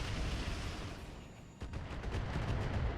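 Indirect artillery fire in the game RogueTech, a dense rumbling barrage of booms and blasts with a brief lull, then renewed heavy impacts rolling on.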